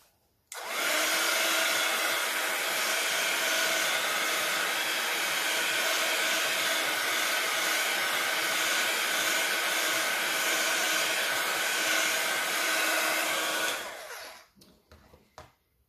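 A hair dryer blows continuously at close range for about thirteen seconds to dry paint, a loud steady whooshing whine that cuts off abruptly near the end.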